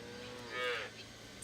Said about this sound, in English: All the cows and calves have been in the shed for the winter months, and they need to be let out to the fields.